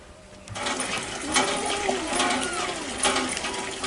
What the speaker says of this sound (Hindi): ये पानी भरत है।